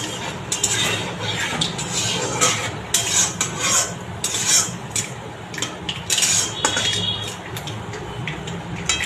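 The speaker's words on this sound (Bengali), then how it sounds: "একটু ফোড়নটা ভাজা হোক।" Whole mustard seeds and dried red chillies fry in hot oil in a pan that earlier held fried aubergine, giving close, irregular crackling and spluttering pops over a steady sizzle, with occasional utensil clinks.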